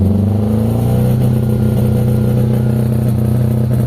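A car engine revs as the gas pedal is pressed repeatedly, its note rising and falling in short surges over a loud, close, clattering idle; the engine has little pull and tops out around 3,000 RPM.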